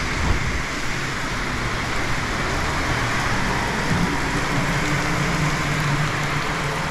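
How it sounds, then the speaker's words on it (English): Rain falls steadily outside, a dense, even hiss with no breaks and no voices. "Look at it raining out here."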